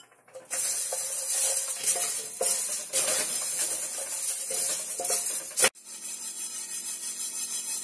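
Sesame seeds stirred and roasted in a pan with sautéed ingredients for capsicum rice, giving close scraping and rattling strokes over a dry sizzle, broken by a brief loud clatter before a softer, steadier crackle.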